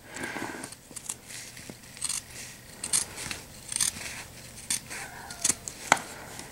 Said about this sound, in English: My scissors need to be sharpened, apparently.